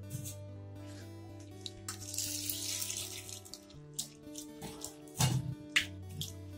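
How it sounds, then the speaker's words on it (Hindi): Sago pearls (sabudana) washed in a bowl of water in a home kitchen, with light splashing and trickling, gentle sloshing and a few drips, fairly quiet, set against a sustained background tone. "एक बार इसको अच्छी तरह से धो लूंगी, उसके बाद इसे मैं भिगो दूंगी।"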